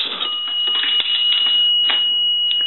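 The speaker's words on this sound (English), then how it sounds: "that'll ring the bell twice" A dime drops into a three-slot payphone being repaired and converted, setting off its coin bell, which sounds as a couple of bright metallic strikes over a steady high ringing tone and light mechanical rattle.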